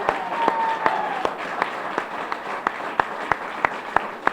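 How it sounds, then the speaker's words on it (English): Applause at a press conference: a modest room of people clapping, with individual sharp claps standing out in a fairly even rhythm for a few seconds. "another big round of applause for the newest member of the NMAA Hall of Fame"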